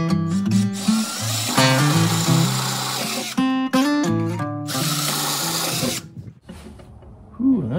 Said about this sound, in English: 3/16 inch drill bit